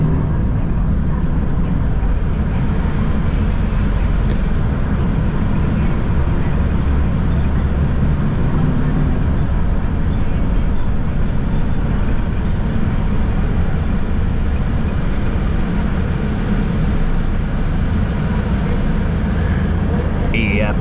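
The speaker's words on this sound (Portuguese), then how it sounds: "o motor vem aqui, é na parte de trás do ônibus, e tem um ar-condicionado também que faz muito barulho" Steady, loud engine drone and air-conditioner hum fill the cabin of a city bus travelling from the Diadema border to Jabaquara in São Paulo, with the engine at the rear; the rumble runs unbroken throughout.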